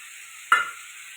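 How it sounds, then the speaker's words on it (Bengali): Shrimp dropped into a pan of spiced masala for a pumpkin, potato and prawn ghonto gives one short burst of sizzling and stirring over a steady frying hiss, close and alone. "মশলা দিয়ে এটা ভালো করে কষাতে থাকবো এবার দিয়ে দেবো চিংড়ি মাছটা"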